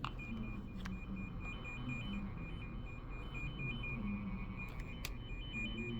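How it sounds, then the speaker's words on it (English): Repeated electronic beeps from a phone line tester switched on to scan, a string of thin evenly spaced tones repeating steadily over a low hum, fairly faint and close. "We're gonna turn it on to scan, and then we should get a beep"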